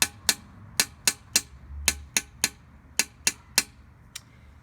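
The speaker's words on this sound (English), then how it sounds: "it would sound like this if you were tapping it or drumming it" Tapping out a sixteenth and eighth note rhythm: about a dozen sharp, close ticks in an uneven quick-slow pattern, clear and alone over a quiet background.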